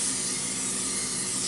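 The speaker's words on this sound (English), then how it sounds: "spray my pan with nonstick cooking spray" Nonstick cooking spray hisses steadily from an aerosol can onto a greased enameled cast iron Pampered Chef casserole dish, a close, continuous broadband spray lasting throughout with no voices.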